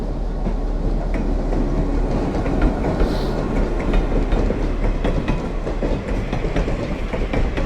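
A train runs along railroad tracks on the Northern Central Railroad line at roughly 15 to 20 mph, a loud, steady close rumble with rhythmic wheel clatter and no voices.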